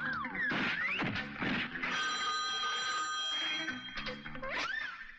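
A telephone rings in an office where a confidential meeting is underway, a loud repeated electronic ring accompanied by sharp crashing and whacking hits in a dramatic film scene.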